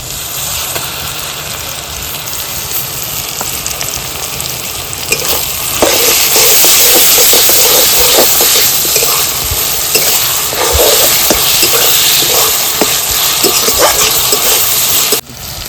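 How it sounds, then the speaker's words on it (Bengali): Onions with ginger and garlic fry and are stirred in a pan, a continuous loud sizzle that grows after a few seconds with scraping clicks of the spatula, close up and without talk. "পেঁয়াজটা ভাজা ভাজা হয়ে গেছে"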